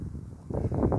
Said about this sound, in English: Sorry, the camera's been hit by trees, it's a bit of gust of wind.